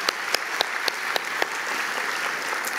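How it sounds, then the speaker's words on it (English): Audience at a university graduation ceremony applauding, a dense steady clapping with a few sharper close claps standing out, moderately loud and continuous. "I'm asking your applause to all administrative staff"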